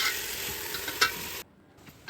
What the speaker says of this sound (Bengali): সব চালটাই আমি দিয়ে ভালো করে নাড়াচাড়া করে ভেজে নিচ্ছি